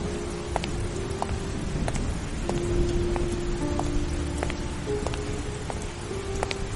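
Heavy rain pours steadily onto surfaces, a constant dense patter with scattered louder drops and no voices.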